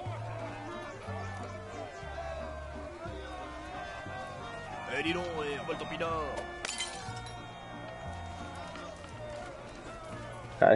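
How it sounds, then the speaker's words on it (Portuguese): A glass bottle shatters in the video game Valiant Hearts: one sharp, bright crash late in the clip, set among game music, running footsteps and a voice talking. "Cara, quebrou minha garrafa, vacilão."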